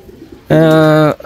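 A racing pigeon gives one loud, steady coo lasting about half a second, close by, after a short stretch of quiet background murmur.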